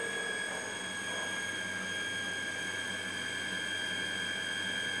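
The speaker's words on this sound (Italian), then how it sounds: "Scusate questo rumore, ma praticamente è il motore dell'acqua." A water pump motor runs with a steady mechanical whir and a constant high-pitched whine, droning on evenly nearby, with no voices.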